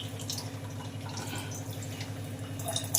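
Water from an RO water purifier runs through a pipe and drips steadily into a metal lota below, a continuous close trickle over a low machine hum with no talking.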